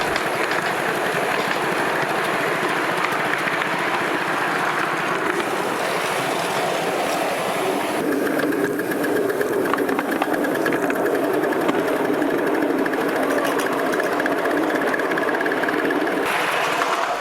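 Miniature steam locomotive running on a club track, leaving the station on a 180-degree curve; a steady, loud, continuous rumble and chuff with clattering wheels, no talk.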